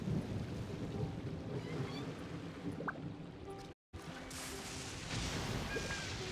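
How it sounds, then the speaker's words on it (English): Thunder rumbling through a stormy Inazuma scene in the video game Genshin Impact, a broad continuous roar with rain-like hiss, steady and fairly loud, briefly cutting out before resuming. "Thunder."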